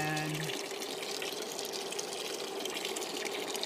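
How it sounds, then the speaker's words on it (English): Water drains steadily from an aquaponics fish tank, a continuous rushing, splashing flow at close range, with a brief low hum at the start. "we're draining from this tank"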